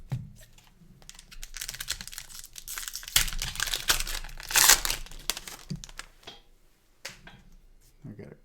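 A Pokémon card booster pack from a Team Rocket's Moltres collection is torn open close by, with crinkly ripping and rustling foil bursts, loudest near the middle, while a person talks quietly.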